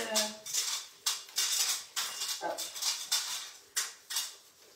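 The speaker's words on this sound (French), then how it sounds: "Il ne faut pas vous faire perdre votre temps à me regarder faire la vaisselle." Dishes and cutlery clink and clatter in a kitchen sink during washing, in repeated sharp bursts with water splashing, close and moderately loud.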